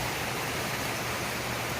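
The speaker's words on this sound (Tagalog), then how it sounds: "diba malakas ang ulan" Steady, dense hiss of heavy rain pouring down, continuous and fairly loud with no pauses or voices.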